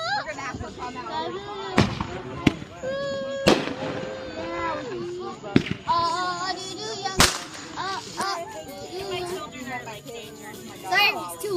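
Fourth of July fireworks, small grenade-style ground fireworks, go off in a series of sharp cracks and pops at irregular intervals, with people talking and shouting excitedly throughout.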